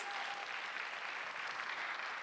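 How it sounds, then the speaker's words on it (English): Applause from the audience at a Kathak dance recital, a steady wash of many hands clapping at moderate, even volume from start to end. "A round of applause for them, please."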